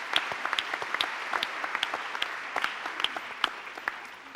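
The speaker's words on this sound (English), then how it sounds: "why don't we give them a big round of applause?" Audience applause for a panel of speakers, steady crowd clapping with sharp individual claps standing out, sustained and moderately loud without any voices.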